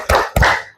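Students in a classroom do the 'tepuk fokus' rhythmic clap: two sharp, nearby claps about a quarter second apart, fading quickly.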